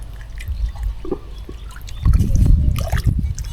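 Water bailed out by hand while catching fish in a shallow pond, with close splashing and trickling pours that grow louder and busier in the second half.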